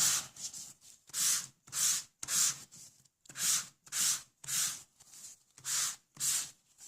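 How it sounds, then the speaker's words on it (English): A sanding block rubs back and forth across glossy white cardstock, making about nine soft, raspy strokes in an even rhythm with short pauses between them, close and fairly quiet, with no voices. "use our sanding block and just give it another sand to ingrain that last lot of sponging into the picture"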